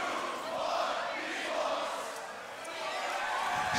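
Crowd at the Grand Beatbox Battle 2021 roaring and cheering in a sustained, dense wash of voices that swells and dips slightly before rising again, loud and continuous throughout.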